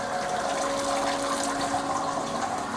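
Wort water drains from a lifted Braumeister malt pipe after the mash, a steady close splashing and trickling rush with no pauses.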